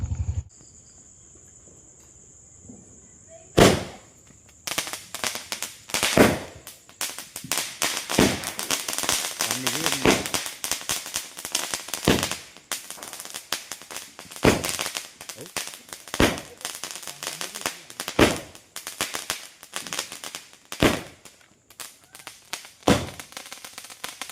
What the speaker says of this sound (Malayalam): ഞങ്ങൾ ഇവിടെ ചൈനീസ് പടക്കം പൊട്ടിക്കാൻ തുടങ്ങട്ടാ